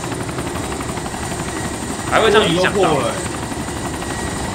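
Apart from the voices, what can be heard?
helicopter engine in the video game DayZ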